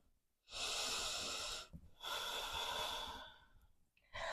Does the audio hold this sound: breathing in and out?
yes